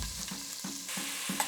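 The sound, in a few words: bacon frying in olive oil in a pot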